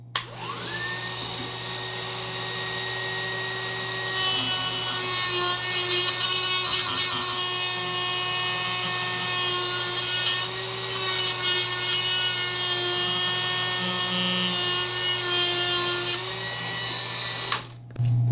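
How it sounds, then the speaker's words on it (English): A small grinding wheel on a rotary tool grinding a Master Lock key, a steady high whine with harsh rasping contact that holds for about seventeen seconds up close before spinning down. "So I just got a little grinding wheel put on here."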